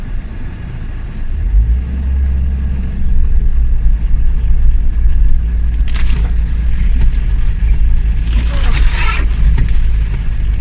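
A car creeps along the edge of a narrow road toward Neda waterfall, its low engine rumble steady throughout, with scraping rustles from low branches brushing the bodywork partway through.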